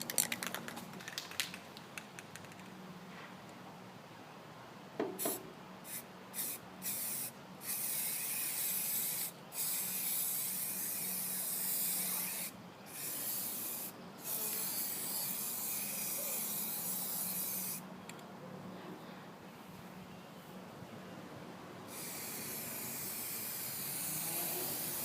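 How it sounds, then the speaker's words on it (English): Spray primer is applied from an aerosol can to rusted spots on the bed of a 2005 Chevy Colorado truck, in a series of close, loud hissing bursts of varying length separated by brief pauses. "we got to hit the trouble spots, all the rusted areas, with some primer"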